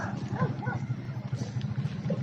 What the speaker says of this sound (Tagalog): Meron pa pala isa. Dami aso.